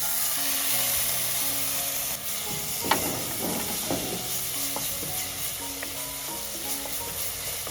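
Prawn moju in a pan with sugar and lime juice just added, stirred over low heat: a soft, steady sizzle with scraping spoon strokes through the middle.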